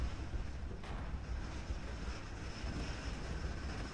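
A single-engine World War II fighter plane in War Thunder roars with a steady, dense drone, close and constant, mixed with airflow noise and no voices.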